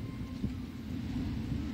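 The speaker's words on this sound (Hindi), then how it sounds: "हवा चल रही है बहुत तेज" Strong wind blows outdoors during a rainy, sunny spell, a low rumbling buffet against the microphone that rises slightly and holds steady, close and moderately loud, with no voices.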